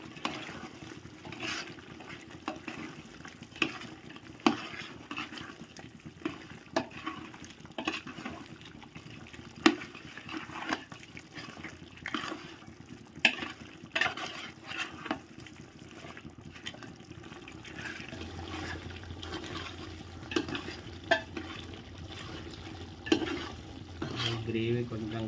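Chicken curry with mint and coriander is stirred in a pan, giving steady scraping and soft wet stirring knocks over a low sizzle, close and fairly quiet, with no talk.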